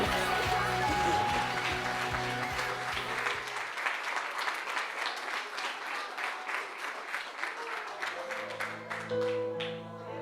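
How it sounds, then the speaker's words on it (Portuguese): Church congregation applauding during a worship service, rapid crowd clapping that rises over fading sustained musical tones, continuing steadily before tones return near the end. "Aplaude o Senhor Jesus, meu irmão."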